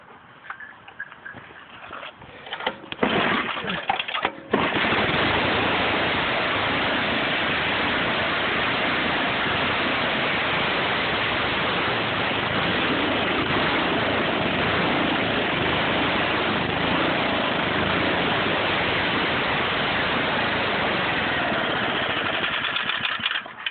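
A Toro snow blower engine starts after a few uneven pulls and sputters, then runs loudly and steadily, its carburetor still needing adjustment and the tone slightly rough.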